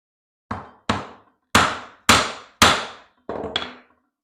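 A mallet strikes a woodworking chisel six times, sharp close knocks at an even pace, the last one doubled and slightly softer.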